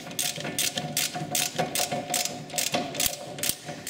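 A ratchet rapidly clicks as a rear brake bolt is tightened on a Dodge Grand vehicle, a fast, close, rhythmic series of pawl clicks with brief pauses between strokes.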